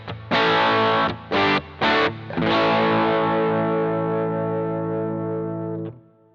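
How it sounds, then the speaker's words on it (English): A guitar played through the Match combo preamp model on a Boss GT-1000CORE gives three short chord stabs followed by a long ringing chord that slowly decays. The tone is overdriven, bright and close, with no voices. "Let's try the match combo, also one of my all-time favorite preamp sims from Boss here."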